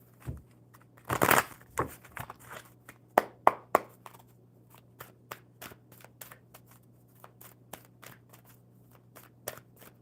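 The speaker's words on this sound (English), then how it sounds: "One more good shuffle." A deck of cards is shuffled during a live coffee-and-cards session. A brief riffling burst comes first, then a series of crisp snaps and taps as the cards are squared and handled, close and fairly quiet.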